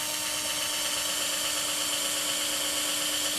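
A power drill runs steadily, boring holes in the legs of a taxidermy mount, with a continuous close whine and no pauses.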